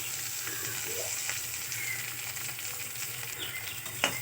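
Onions, green chili and curry leaves frying in hot oil, a steady soft sizzle that holds throughout with faint stirring scrapes and a brief clatter near the end, no talking.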